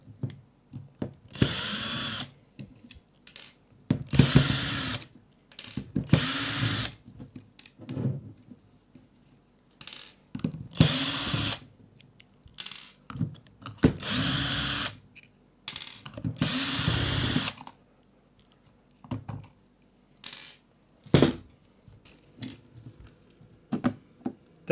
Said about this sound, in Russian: Откручиваем дальше.